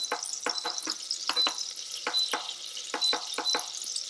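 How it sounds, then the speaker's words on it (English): A spoon stirs melting butter in an Instant Pot on sauté, making quick, close scraping strokes in an uneven rhythm over a soft, steady sizzling hiss. "Stir it around to help the butter melt"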